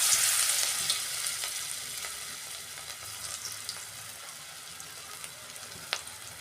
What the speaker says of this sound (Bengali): তেল গরম হয়ে গেছে। এবার ভেজে নিচ্ছি বড়াগুলো।